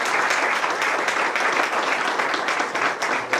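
Audience applause at a business event, a dense, steady wash of clapping that fills the whole stretch at even loudness with no pauses.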